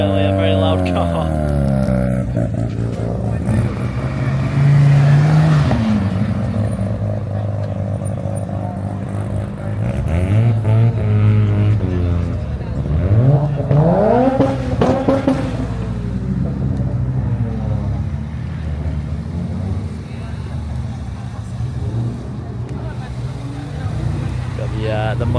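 A Ford Mustang Mach 1 leaves a car meet, its engine rumbling and rising through several loud revs and gear pulls, then fading as it drives off.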